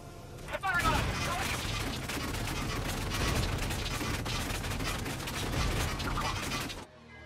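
Rapid gunfire and a heavy cannon blast from a Valkyria Chronicles 4 battle fill the space, a dense loud barrage of shots and mechanical clatter, with someone talking over it.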